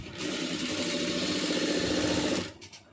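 A sewing machine running continuously as it stitches thread piping for a tailoring job, a close, fast mechanical whirring and clatter for over two seconds before it slows and stops with a few faint rattles.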